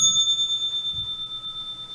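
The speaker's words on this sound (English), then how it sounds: "That bell's for everybody." A bicycle-style bell gives one bright ring near the start and hangs in a long, sustained shimmer that fades slowly over two seconds.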